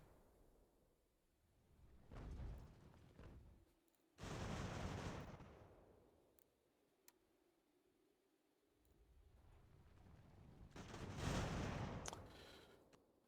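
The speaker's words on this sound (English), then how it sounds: "Them cannons are very close." Deep booming cannon shots in an American Revolution strategy game, a few heavy blasts spaced several seconds apart with rumbling tails, over faint background noise.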